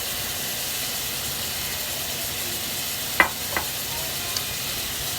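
Chicken mince and tomatoes frying in a pan make a steady, even sizzle and hiss, with a couple of brief clinks from stirring about midway and no voices.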